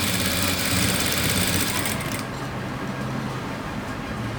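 A sewing machine stitching fabric near a hook and eye, a fast, even mechanical whirring rattle, close and loud, slowing slightly partway through, with no talking.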